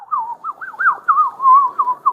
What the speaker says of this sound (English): He's whistling at you, really focused, yeah. Hey, when you whistle, whistle again.